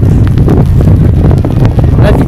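Strong storm wind batters the Finistère coast under a raging sea and driving rain, a loud, constant roar with heavy gusty buffeting.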